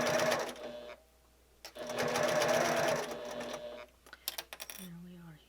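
A sewing machine stitches a zipper cosmetic bag in two steady runs of close, whirring mechanical stitching separated by a brief stop, followed by a few clicks and a short voice at the end.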